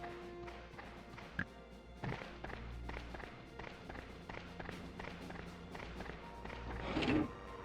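Footsteps in a video game match from Grunt League 2026, a steady run of soft repeated taps and thuds over a busy game soundscape, with a louder burst near the end.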